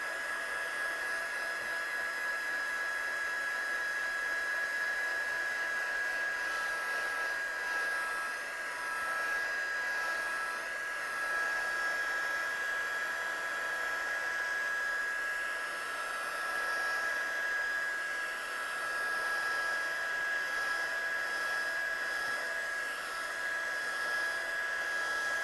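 A hair dryer or heat tool blows steadily on watercolour card, a continuous loud whooshing hiss with a high whine, sustained alone throughout with slight fluctuations.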